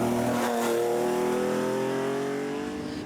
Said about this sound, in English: Always a welcome sight and sound on the stages is the Porsche 911 of Monaghan driver Brendan McAree.